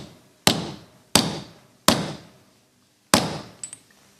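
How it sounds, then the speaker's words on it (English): A bearing tool is tapped with a hammer to seat a bearing into a Pro2 rear bicycle hub, giving four sharp, close metallic knocks at fairly even intervals, each ringing briefly before fading. "we take the tool that you can buy from any shop, rest it inside there, and then just a gentle tap in"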